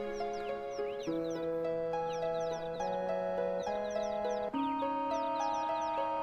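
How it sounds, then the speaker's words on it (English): Chocobo chicks in a nest in Final Fantasy VII chirp in quick high clusters of short peeps, repeating over a steady synthesized melody. "We find some chocobo chicks in a nest."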